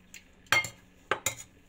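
Boiled, salted, still-hot potatoes are crushed in a pot for a tuna and tomato bourek filling, giving a few sharp metallic clinks and soft mashing knocks spaced irregularly, close by and with no talking.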